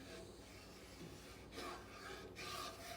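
A spoon scrapes and rubs steadily around a pot of roux for gumbo, heat set between medium and low, a soft continuous rasp with slightly louder strokes near the end.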